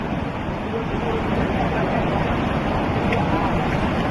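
The Lembah Anai waterfall pours a large volume of water in a steady, loud, broadband roar that continues without a break and drowns out other sounds.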